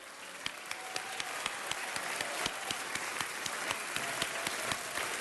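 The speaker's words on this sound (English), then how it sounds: "Let's give Carol a round of applause." A city council meeting audience claps in steady applause, dense and continuous with sharper individual claps standing out throughout, moderately loud and without talk.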